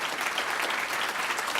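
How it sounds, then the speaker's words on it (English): Steady applause from an audience at a financial education event, dense even clapping filling the room for the whole stretch without any voices on top. "Let's have another round of applause and congratulations."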